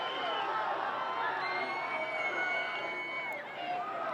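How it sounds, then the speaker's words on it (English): A crowd at a high school boys' varsity soccer game, Saugus against Triton, cheers and shouts continuously, with whoops and children's voices rising over the sustained roar. "He excites the crowd."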